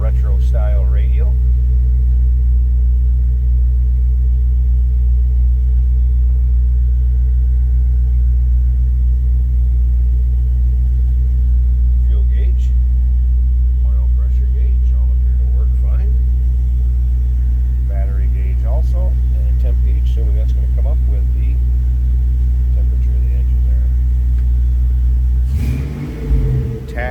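A 1971 Chevrolet C10 shortbox with a fuel-injected LS2 V8 idling loud and close, a steady deep rumble holding for nearly half a minute with faint speech over it, ending in a brief burst of noise.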